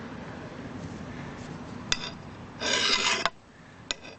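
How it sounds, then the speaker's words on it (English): Axe blade being worked with a file to remove nicks, heard as a few close rasping strokes, one longer scrape among short metallic scratches. "if your blade has a lot of nicks in it, you need to keep filing until those nicks are gone."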